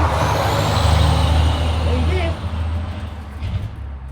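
A truck rolls past on a rural road with a loud, close, low engine rumble and road roar that fades a little as it moves away, with a faint hiss of air brakes.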